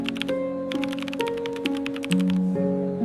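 Rapid clicking of keys on a keyboard during a typing test, a quick irregular run of close taps over sustained musical background tones.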